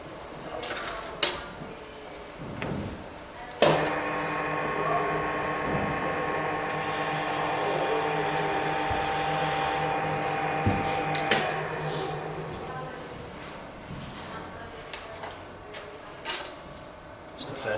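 A chisel cuts plaster turning on a lathe, giving a steady scraping, whirring tone for several seconds amid scattered clicks and knocks in a workshop.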